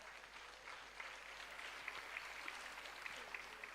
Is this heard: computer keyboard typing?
no